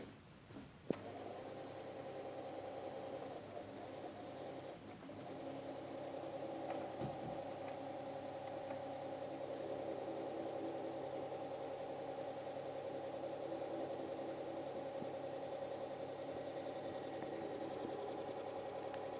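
A Dynamo-Sliven 6-25.3A electric motor runs on a variable bench supply at 7 volts, giving a steady, faint mechanical hum and whir that holds level throughout, with a couple of small clicks near the start.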